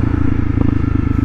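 Loud, close motorcycle engine with a steady rumbling pulse as the rider downshifts and slows toward a stop, no voices over it.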